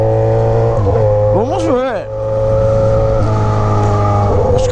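A modified Yamaha XJ6 motorcycle with an Atalla 304 stainless steel exhaust and Fuel Tech tuning runs steadily, then revs up and down sharply through a quick rising-falling sweep before settling back to a loud, droning idle; someone speaks briefly.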